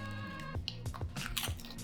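Someone bites into an O'Tacos wrap with cheese and avocado, a few close, soft crunching and chewing bites in quick succession, fairly quiet, no talk.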